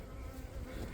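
A dense crowd of honey bees hums inside a packed hive, a close, continuous, faint buzzing drone with no voices.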